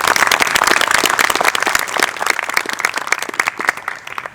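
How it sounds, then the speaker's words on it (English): Loud audience applause for a class of 2020 valedictorian at a graduation ceremony, dense clapping that fills the whole stretch and thins slightly toward the end. "Let's have a round of applause for valedictorian."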